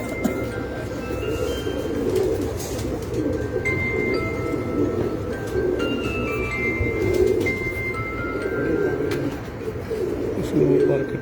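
Rozpuri and Kamkagar cross-bred pigeons on a rooftop loft coo steadily in a low, continuous murmur that fills the whole stretch, with a few faint higher bird chirps scattered above.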